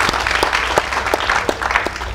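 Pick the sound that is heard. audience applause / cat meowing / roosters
audience applause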